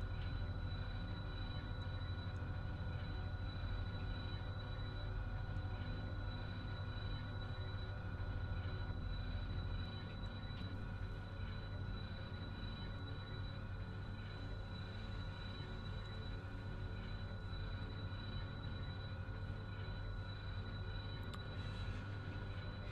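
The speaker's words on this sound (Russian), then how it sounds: "у нас локомотив трехсекционник VL-80C. Тащим мы 5597 тонн" Freight train of 5597 tonnes hauled by a three-section VL-80S electric locomotive on the BAM line near the Severomuysky tunnel, a steady loud rumble and hum of motors and rolling wheels lasting throughout.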